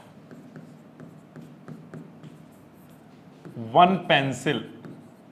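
Pen scratching across paper during a Class 10 maths lesson on linear equations, a run of soft, evenly spaced strokes, before someone speaks loudly over the end.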